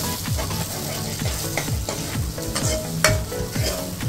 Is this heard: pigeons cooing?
no